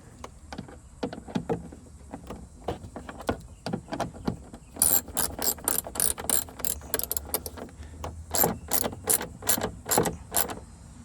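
Ratchet clicking in quick bursts while a screw is driven into a Jeep Gladiator light fixture, close and fairly loud, with short pauses between runs of rapid clicks.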